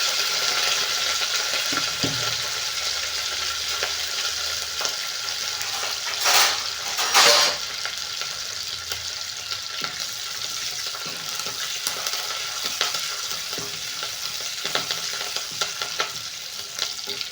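Curry leaves and green chilies sizzling in hot oil, a steady close hiss and crackle with stirring scrapes and two brief louder bursts partway through, no talking.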